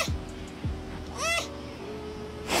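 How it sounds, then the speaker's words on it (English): A baby sloth gives a few close, thin, high squeaks, each a short rising-and-falling whine, separated by brief pauses. "Listen to this baby sloth squeak."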